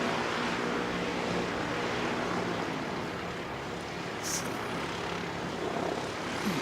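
A light aircraft flown by a student pilot, operating on runway 29 in gusty nor'west wind at Christchurch, makes a steady, broad engine roar that blends with wind noise and holds at a constant level throughout.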